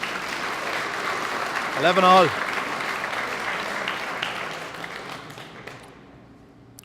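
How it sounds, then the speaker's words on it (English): Crowd at an All-Ireland ladies softball singles final applauding steadily throughout, a sustained wash of clapping from a packed hall, with a commentator speaking briefly over it before the applause fades toward the end. "Crowd appreciating that."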